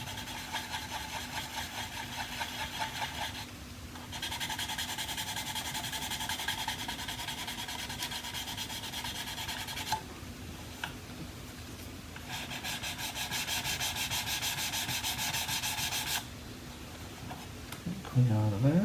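A part from a 1/35 plastic Cromwell Mk.IV model tank kit is sanded with a sanding stick. Close, rapid back-and-forth rasping comes in long bursts with short pauses between them, and no voices are heard.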